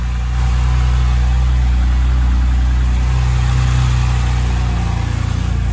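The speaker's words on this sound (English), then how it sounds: "the car started up that time." A BMW 328i engine, just restarted after being non-running, idles with a loud, steady low rumble and a constant mechanical hum held close throughout, with no talk over it.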